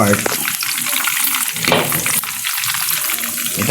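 Chicken seasoned with salt frying in hot oil, a loud continuous crackling sizzle with bursts of spattering, close by and dense throughout.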